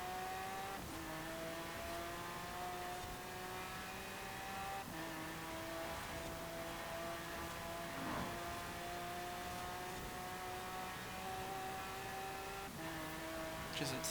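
Racing car engine from Forza Horizon 4, an all-wheel-drive rival to the Ferrari F12 TDF, droning steadily with rising gear-by-gear revs and brief shift dips throughout, a continuous loud in-game engine note.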